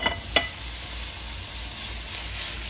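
Mushrooms frying in a pan for risotto, a steady broadband sizzle with a couple of faint clicks at the start, continuous and close.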